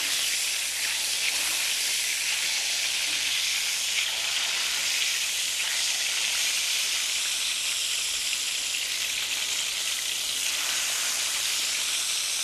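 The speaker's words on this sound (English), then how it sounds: "that's a nice big little fry action going on" A very thin veal cutlet fries in a pan, giving a steady, bright sizzle and hiss that holds evenly from start to finish at close range, with no voices over it.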